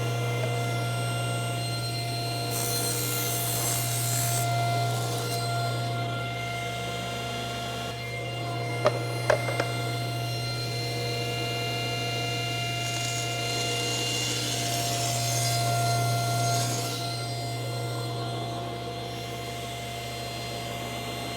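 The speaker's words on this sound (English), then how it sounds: "So I'm going to be trimming the floor to fit into the box and the lid to fit on the other side." A power tool trims the wooden floor panel of a jewelry box, running as a steady, even whine from start to finish with a couple of brief knocks midway and no talking.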